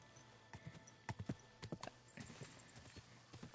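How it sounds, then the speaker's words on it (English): Horse hooves clop in the video game Kingdom Come: Deliverance, a steady walking rhythm of soft, fairly close thuds over a faint background hum, with no one talking. "By the way, this horse is Pebbles"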